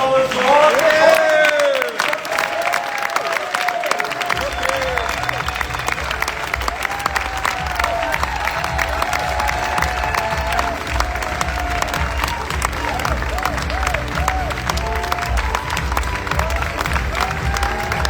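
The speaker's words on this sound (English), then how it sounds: "Ladies and gentlemen, a thunderous applause for..." Crowd at the WorldSkills Competition closing ceremony in Messe Luzern, Lucerne, Switzerland, applauding and cheering for the cooking skill competitors, a dense, sustained wave of clapping over a steady low rumble, with voices mixed in.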